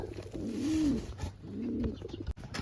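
A pigeon coos twice, two soft throaty calls separated by a brief pause, close by with no talking.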